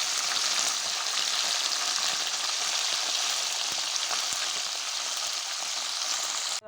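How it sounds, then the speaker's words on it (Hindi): Roasted chicken fries in a pan with a loud, constant sizzle and occasional soft stirring taps, uninterrupted and free of voices until it cuts off abruptly. "रोस्ट मैंने कर दिया, अब मैं करूँगी इसे फ्राई।"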